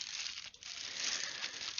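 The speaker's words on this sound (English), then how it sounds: "what we're gonna do is just mix up some packs here, randomize them as much as possible" Magic: The Gathering Battlebond booster pack wrappers crinkle steadily up close as the packs are mixed together, a continuous dry rustling with a brief dip partway through.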